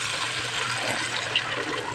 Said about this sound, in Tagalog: Dagdag po tayo ng tubig.